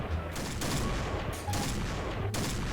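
Rapid gunfire in the online shooter Point Blank, with dense, loud bursts of shots running nearly the whole time and only brief gaps between volleys.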